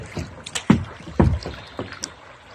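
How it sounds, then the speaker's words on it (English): A kayak paddle splashes and dips into water in several uneven strokes, close and fairly loud, with short bursts of swishing water separated by brief pauses as the boat is paddled backwards one-handed. "I'm trying to kayak backwards, one-handed."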